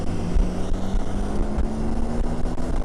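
A Honda Forza 350 scooter riding laps on a racing track, its engine a steady, droning hum with a constant pitch and no talk over it.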